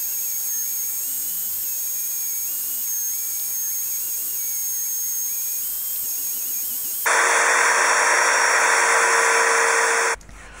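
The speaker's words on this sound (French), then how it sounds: "J'ai donc repris les extrémités de tous les barreaux à l'aide de mon support pour ponceuse à bande" A belt sander mounted in a stand shapes the ends of wooden dowels for a wooden cradle; a loud, steady, high-pitched whine and hiss starts abruptly after a quieter stretch of hum, then cuts off near the end.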